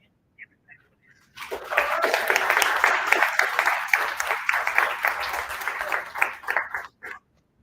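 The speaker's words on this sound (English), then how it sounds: "Give another round of applause." Audience applause at a showcase, breaking out after a near-silent start, a dense even clapping that holds for several seconds before tapering off and stopping abruptly.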